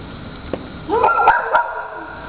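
A dog at an animal shelter gives a short burst of close, sharp barks and yips, two or three quick calls over a faint background hum.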